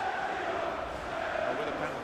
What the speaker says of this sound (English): That's what the fans are cheering, and so they should be.